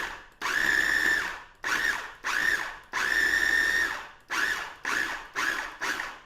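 A food processor pulses a mix of dates, almond butter and flour, giving about eight close, whining motor bursts of uneven length, some short and some longer, separated by brief silences, with no talk.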